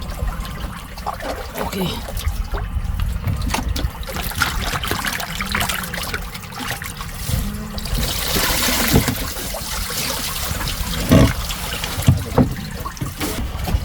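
Water splashes and trickles over large fish being washed down, an uneven running pour with bursts and spatters, close by, while people talk over it.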